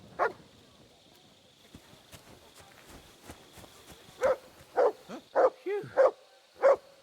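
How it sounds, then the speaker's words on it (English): A dog in the video game Kingdom Come Deliverance 2 barks six times, close and sharp, spaced about half a second apart after soft footsteps and a brief whine, with a short exclamation at the start. "Hey, clear off, you mutt!"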